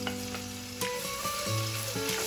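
Finely diced pancetta sizzles and fries in hot olive oil in a pan, a continuous close crackle with steady tonal hum beneath and no talking.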